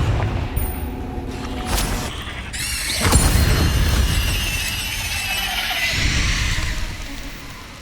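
Fiery blasting spell bursts and magical combat effects in Hogwarts Legacy, loud booms and crackling whooshes with shimmering high tones over a dense, continuous game soundscape.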